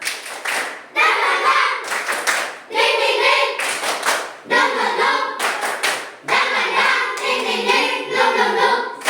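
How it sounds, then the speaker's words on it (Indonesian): Fourth-grade schoolchildren in a classroom do a rhythmic spirit clap, chanting in unison between bursts of patterned clapping, loud and close, in several repeated phrases. "Tepuk semangat"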